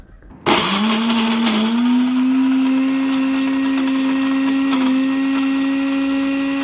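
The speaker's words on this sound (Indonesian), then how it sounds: "Semuanya ini mau saya blender halus ya. Ini blendernya saya pakai Cosmos 3-in-1." A Cosmos 3-in-1 blender switches on and grinds shallots, garlic and turmeric into a paste, a loud, steady high-pitched motor whine that holds constant after a sudden start.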